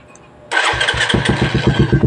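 A cold Suzuki Raider motorcycle engine fires up after a brief quiet moment, catching abruptly and settling into a loud, close, uneven rapid putter with a rough mechanical rattle.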